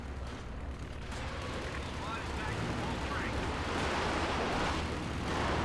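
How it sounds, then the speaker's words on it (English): Muffled explosions and scattered gunfire in a Company of Heroes 2 battle, a grenade burst among low rumbling blasts at a moderate distance, with a commentator talking throughout. "Nice work though, nice grenade there."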